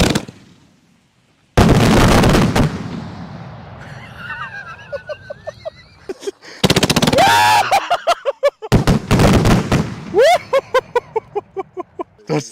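Fireworks launched by a Cobra firing system go off as loud booming bursts, followed by whistling, crackling shells and a fast run of sharp pops, all close and powerful.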